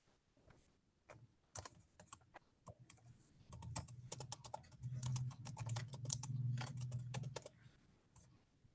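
Bursts of clicking key presses as someone types an Excel formula on a computer keyboard, near and quiet, with a faint low hum under the denser stretch of typing.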